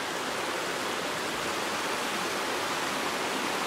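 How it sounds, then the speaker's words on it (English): A river rushes steadily beside a New Hampshire cabin, a dense, even wash of flowing water with no pauses or voices. "see, that's the river I meant."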